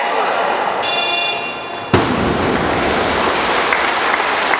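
Audience applause fills a gymnastics hall at a Russian youth sports festival after a gymnast's routine, a dense steady wash of clapping with a sharp thud partway through and an announcer's voice over it.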